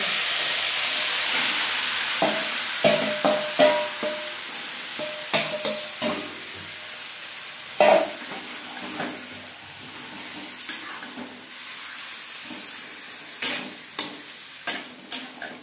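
Marinated meat hitting hot mustard oil in a pan, a loud hissing sizzle that eases off, with repeated scraping and stirring knocks from a spatula against the pan.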